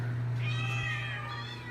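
A single drawn-out meow from a nearby cat at an animal shelter rises and falls over a steady low hum in the background.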